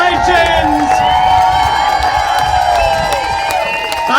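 A West Bend crowd cheers for Courtney Rummel with shouting and scattered clapping, a dense steady roar that holds across the whole moment while a voice rises above it.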